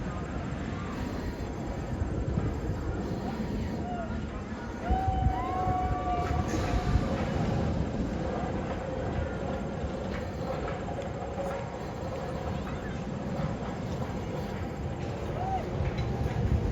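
Eurofighter Tantrum roller coaster at Six Flags Darien Lake, its train rumbling along the track as a steady broadband roar with some faint tonal squeals, heard at a distance amid park ambience.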